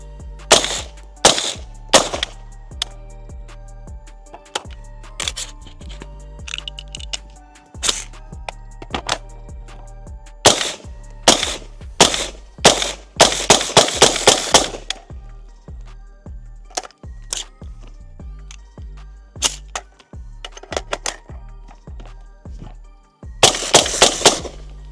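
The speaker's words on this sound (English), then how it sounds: "60 rounds of 223 through a rimfire can" .223 rounds fired through a Replicator ACER rimfire suppressor, loud sharp suppressed shots in irregular bursts and singles, some rapid strings close together, with mechanical clatter between and pauses; no talking.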